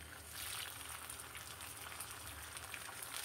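Fish frying in hot oil with a little salt, a soft, steady hiss and light crackle that stays fairly quiet and continuous, with no talking.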